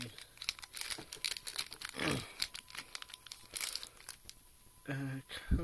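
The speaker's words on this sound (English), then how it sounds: "I guess we'll go ahead and open up these packs" Pokémon card packs from a Fennekin box torn open and handled up close, crackly crinkling and tearing in repeated bursts with short pauses and a final rasping rip, under some quiet talk.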